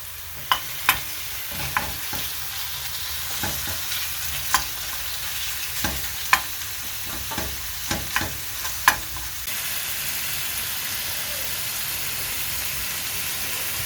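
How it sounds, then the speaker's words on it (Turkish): Minced meat fries with onions in a pan, giving a steady close sizzle and hiss throughout, with repeated sharp scrapes and taps of a utensil stirring during the first nine seconds. "Soğanların yanına kıymayı da attık."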